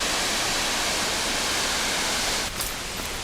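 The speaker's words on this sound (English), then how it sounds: "You hear the waterfall?" Steady, dense roar of an Andes waterfall, heard as a broad continuous rush close by that dips slightly near the end, with no voices over it.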